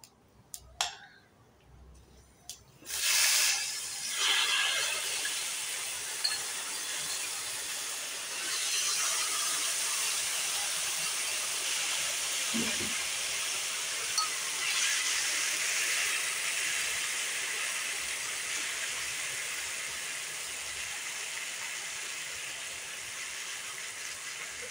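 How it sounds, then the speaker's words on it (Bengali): Boiled taro stolons (kochur loti) go into a hot pan: a few clattering knocks come first, then a loud hiss bursts up and settles into a long, steady sizzle, with no talk. "এবার কচুরলতিটা দিয়ে দেবো।"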